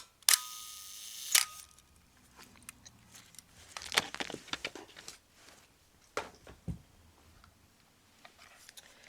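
A few sharp mechanical shutter clicks from an old Japanese Palmat Auto camera, the first two loudest, separated by quieter handling clicks and rattles.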